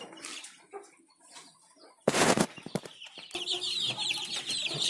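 Hungry farm chicks crowd the coop doors at feeding time, their chirps rising after a sudden clatter, with scattered bird calls and knocks through the short stretch.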